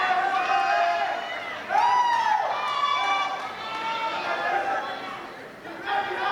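Spectators at a high school varsity swim meet keep up a steady roar of cheering and chatter, ebbing and surging behind a commentator's voice that carries over it throughout.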